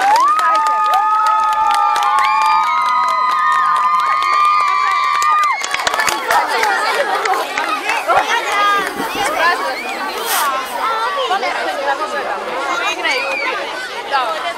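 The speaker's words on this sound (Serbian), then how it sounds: "Pozdravite ih aplauzom" An audience cheers, claps and chatters for a children's folk dance ensemble at a village festival. Music is heard at first, then the crowd noise becomes loud and busy, with children shouting and some voices over it.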